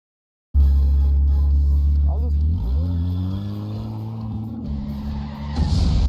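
Car driven hard through curves, its engine revving loud and close with rising and falling pitch through gear changes and a squeal of tires near the end.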